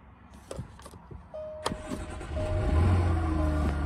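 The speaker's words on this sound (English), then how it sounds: "Push button start." A 2013 Jaguar XF 3.0 V6 AWD starts at the push of a button: faint clicks and a tone, then the starter whirs and the engine catches and settles into a steady, close idle.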